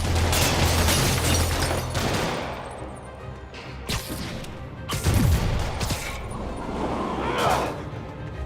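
Criminals in Marvel's Spider-Man video game fire bursts of gunfire, dense and loud at first, then sharp separate cracks and booms with brief shouts and scuffling in the game action.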